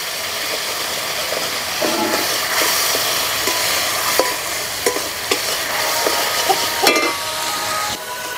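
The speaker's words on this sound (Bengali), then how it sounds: "এবারে সমস্ত উপকরণগুলো ভালোভাবে কষিয়ে নিতে হবে।" Spice paste with turmeric, Kashmiri red chilli and salt is sautéed in a pan: a steady close sizzle runs throughout, broken by scraping stirs and a few sharp clinks of the spoon.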